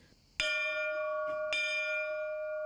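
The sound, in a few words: church bell ringing in chapel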